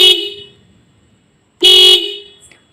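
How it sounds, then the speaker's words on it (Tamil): Two tuned horns on a Bajaj Pulsar motorcycle blare together in two loud, bright bursts, a short one at the start and a longer one after a pause, each cutting off sharply. "போட்டு விட்டு இப்போ நான் 2 ஹார்னையும் அடிக்கிறேன்."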